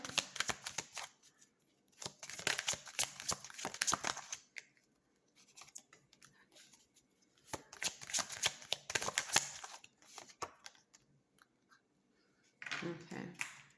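Tarot cards are shuffled by hand in close, crisp riffling bursts that come and go in several rounds, with short quiet pauses between them.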